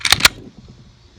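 Springfield Armory XDE 9mm pistol trigger pulled in single action, a pair of sharp, close mechanical clicks in quick succession followed by faint handling noise.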